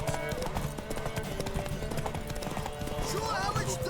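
Horse hooves clip-clop in The Witcher 3, a steady run of hoofbeats buried in a dense mix of game music, effects and talking voices.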